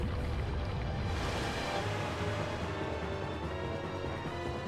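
Dense, loud churning and rushing of water as the boss Diababa emerges in Zelda: Twilight Princess HD, a steady surging wash lasting throughout with no pauses.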